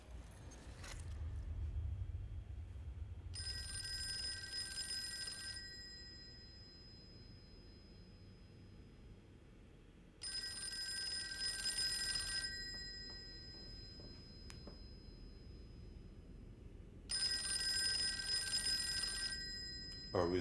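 A telephone rings in the Call of Cthulhu video game, three separate bursts of bright electronic trilling, each about two seconds long, spaced by quiet gaps over low ambient rumble.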